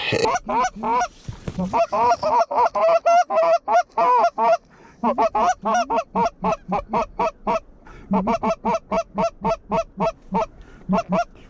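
Geese honk loudly and nearly without pause at a pond during a late-season hunt, a dense rhythmic series of nasal calls close by with no talk over them.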